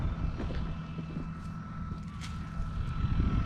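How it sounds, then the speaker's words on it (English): Breezy spring wind buffets a farm field being worked for barley, a steady low rumble with gusty roar and faint higher whooshes, continuous throughout with no talking. "It's quite breezy."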